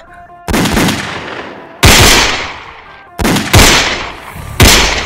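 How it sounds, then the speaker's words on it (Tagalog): Several loud, sharp gunshots ring out in uneven bursts, each with a long echoing decay, close by and with no talking. "putok ni Igme ng sunod-sunod sa mga ito."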